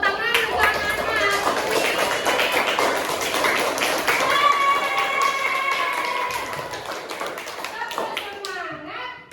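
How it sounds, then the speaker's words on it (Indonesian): Children in a classroom clap and tap steadily for a group of pupils, a dense continuous patter of hands with children's voices and squeals mixed in throughout. "Jadi silakan tepuk tangan untuk anak-anak."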